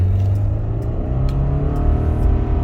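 A 2021 Subaru Outback 2.5 with automatic transmission revs up and accelerates hard from 0 to 100 km/h, its steady loud roar rising in pitch across the whole stretch, close and continuous.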